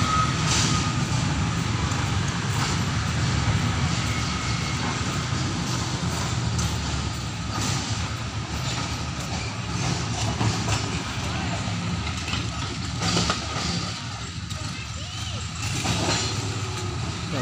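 A heavy plantation rail lorry carrying rubber latex on a Sumatran estate rumbles in reverse while a repeating warning beep sounds over the engine drone, steady and close throughout.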